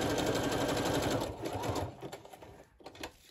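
A sewing machine stitches a journal cover made from bubble envelopes, a fast, steady mechanical whir close by that slows and stops in short bursts near the end.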